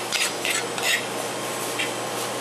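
Toasted walnuts stirred in sauce in a pan while cooking club duck with fennel: a few soft scraping strokes of a utensil against the pan over a low, steady background hiss, no talking.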